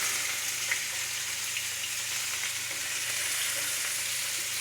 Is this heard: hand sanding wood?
no